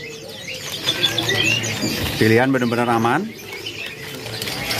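Caged birds at the Pramuka bird market chirp and coo steadily throughout, with someone speaking Indonesian close by partway through.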